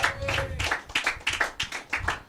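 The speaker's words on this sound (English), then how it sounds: "Clap it up again for Berta, musical talent of the night." A crowd claps in a steady burst of applause, many hands beating together at close range with rhythmic peaks.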